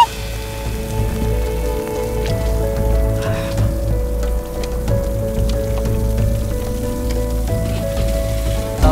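Steady rain patters on a surface throughout, a constant soft hiss and scattered drops under a low hum, with no voices.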